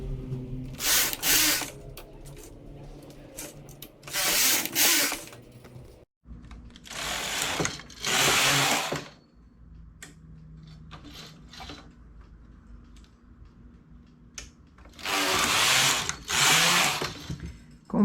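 A knitting machine knitting a striped square poncho, loud rasping carriage passes in repeated bursts of about a second each, separated by quieter gaps with faint clicks, up close.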